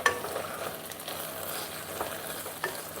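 Beans being mashed in a hot sizzling pan, a continuous close frying hiss with soft squishy scrapes and a couple of light taps of the utensil, no voices.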